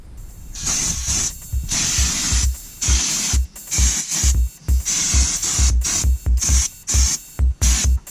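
Aerosol cleaner sprays onto a brake caliper in repeated bursts of sharp hiss, each about a second long with brief gaps, loud and close, alongside low thuds.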